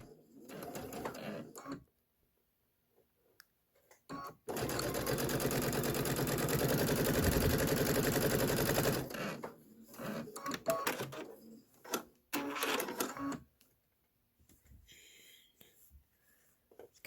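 A sewing machine stitching down folded fabric embellishments for a quilted bench pillow: one sustained, loud, rapid whirring run of several seconds, with softer, shorter bursts of handling before and after.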